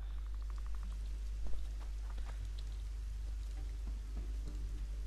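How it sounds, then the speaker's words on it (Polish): Steady rain patters across the scene in the video game The Witcher 2: Assassins of Kings in an even wash, with a low constant rumble underneath and a few brighter drips standing out. "O, pada deszcz."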